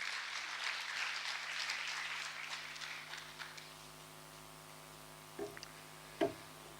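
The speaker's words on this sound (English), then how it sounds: "A round of applause to her." Broadband applause from an audience at a women entrepreneurs' meeting in Mangaluru, moderately loud at first, then thinning and fading after about three seconds into a quiet room with a couple of faint knocks.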